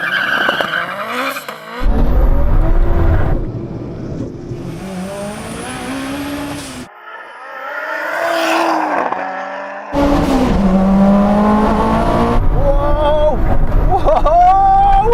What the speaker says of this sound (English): then I release the paddle, and the car will just launch